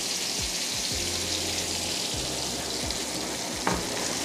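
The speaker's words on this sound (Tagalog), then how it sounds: "Gigisa po tayo ng talong." Eggplant sautés in a hot pan with a steady, close sizzle that carries throughout, with occasional light stirring noises and one brief clink near the end.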